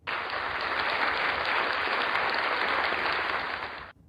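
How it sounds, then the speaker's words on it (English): Steady, dense applause from many hands, loud and close, holding evenly for about four seconds before cutting off abruptly. "we also fail to give ourselves a moment of applause"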